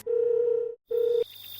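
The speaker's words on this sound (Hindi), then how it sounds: "वो और कुछ सोच ना पाया और फिर से दोस्त को फोन किया।" A telephone dial tone heard when calling a friend, a steady, clean electronic hum that plays, cuts out briefly, returns, then stops, leaving a quiet line.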